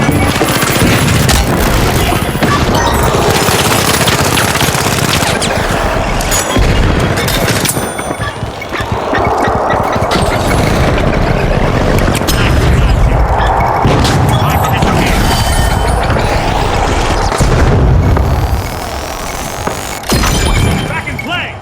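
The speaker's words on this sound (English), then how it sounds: "contestants that are eliminated in the arena will go kaboom" Eliminated contestants blow up in The Finals arena, a dense, loud barrage of booms, shattering debris and gunfire layered continuously under a voice talking over the action.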